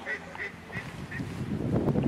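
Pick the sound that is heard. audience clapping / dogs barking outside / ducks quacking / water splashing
ducks quacking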